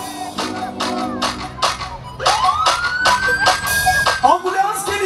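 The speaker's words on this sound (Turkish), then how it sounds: "Ambulans geliyor." An ambulance siren wails through a wedding celebration, its rising pitch sweeping up over loud festive music and crowd noise, fairly close and prominent.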